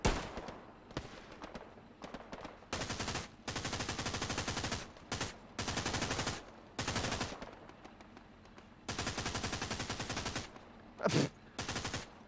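Long rattling bursts of machine-gun fire in a Hell Let Loose firefight, mixed with scattered single shots. The bursts come in repeated loud strings separated by quieter gaps.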